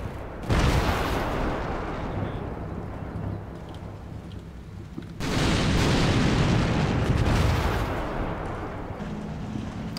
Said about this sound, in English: Oh, that's a big explosion.